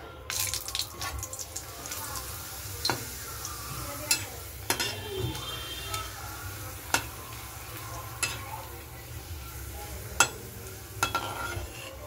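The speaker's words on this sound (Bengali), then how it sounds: "পাঁপড়গুলো আগে ভাজবো, তেলটা গরম হয়ে গেছে" Papad fry in hot oil in a home kitchen, a soft continuous sizzle broken by sharp utensil taps and clinks at irregular intervals.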